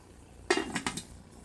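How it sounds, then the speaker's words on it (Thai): Metal pot lid set down onto a cooking pot of chicken wings simmering with winter melon, giving one sharp clanking hit followed by a couple of lighter rattling clinks, close and clear in a quiet kitchen. "แล้วก็ปิดฝาค่ะ"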